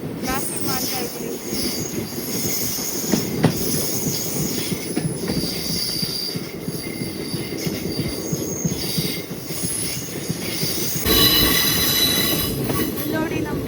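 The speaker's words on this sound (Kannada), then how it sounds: "ಇಲ್ಲಿ ನೋಡಿ ನಮ್ಮ ಟ್ರೈನ್ ಯಾವ ರೀತಿ ಕರು ಹೊಡಿತಾ ಇದೆ ಅಂತೇಳಿ." A passenger train on the Mysuru route runs on its rails during a general-class journey, with a loud, steady rumble of wheels and rattling carriages, intermittent metallic squeals, and a brief surge in loudness near the end.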